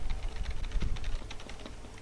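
Rapid mouse clicks and key taps while playing the survival game Muck, a steady fast clatter of close, crisp clicks running throughout with no talk.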